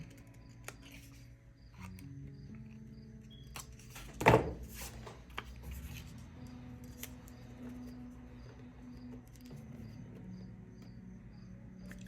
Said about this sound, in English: I'm just gonna kind of come in with my scissors